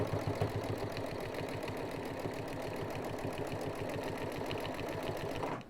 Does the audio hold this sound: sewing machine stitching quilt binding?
yes